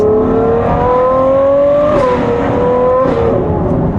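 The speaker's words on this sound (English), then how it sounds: "When it comes to driving, nothing on the move, when it revs up, sounds like this." A Ferrari 812 GTS engine revs hard and close, its pitch climbing steeply, dipping briefly with a gear change, then rising again, loud and alone.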